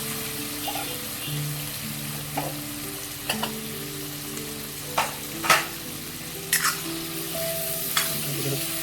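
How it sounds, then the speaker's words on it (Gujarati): Potatoes frying and being stirred in a pan for rasavada bataka, a steady soft sizzle with occasional scraping clinks and knocks, no talking. "ત્યારબાદ આપણે એમાં નાખીશું આપણા બટાકા।"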